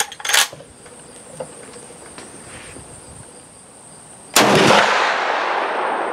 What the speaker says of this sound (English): These are 200 grain factory bullets, which is pretty much the standard load for .35 Remington.